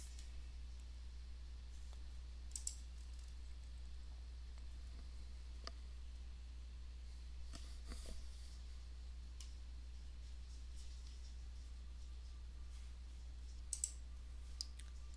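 Sparse soft clicks of a computer mouse and keyboard, faint and close, scattered over a quiet steady hum with no talking.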